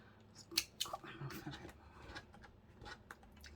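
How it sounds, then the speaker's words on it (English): Small snips cut paper for a 6x6 mini journal in a craft project, giving a few quick, close, crisp clicking snips over quiet room noise. "Can't come to grips with these little snips, but they are very handy"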